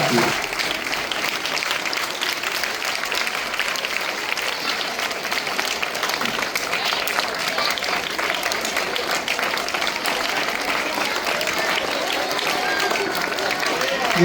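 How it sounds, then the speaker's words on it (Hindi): Sustained applause from an audience at a teacher award ceremony held by an educational and welfare society, a dense, steady wash of clapping at even loudness throughout. "जोरदार ताली आपकी।"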